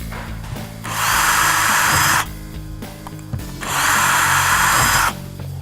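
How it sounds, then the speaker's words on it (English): Two loud bursts of a power drill with the smallest bit whirring as it drills holes in a headrail, each lasting over a second, separated by a short pause with faint handling noises. "first thing is to drill those two holes"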